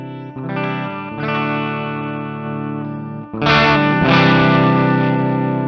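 An electric guitar played through a Mooer GE200 multi-effects processor rings out in sustained, distorted chords with chorus shimmer, a brighter and louder strum landing midway, with no talking.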